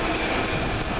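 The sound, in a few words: locomotive 39157 departing with train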